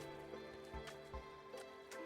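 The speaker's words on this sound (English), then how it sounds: "A nice little rainy thunderstorm here." A rainy thunderstorm in the colony-building game RimWorld gives a soft, continuous patter of rain with scattered heavier drops, faint and distant, over a low steady tonal backdrop.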